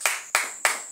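Three sharp hand claps in even succession, close and crisp, given in acclaim of the Lord during a preaching session, with nothing else heard.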